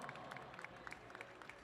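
A crowd at a track cycling national championship applauds at a moderate distance, with steady, faint clapping and a few sharper claps over a murmuring room.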